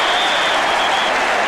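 A large football stadium crowd at a 1986 Detroit versus Minnesota game roars and applauds after a play, a dense, loud, sustained wash of cheering with no clear gaps.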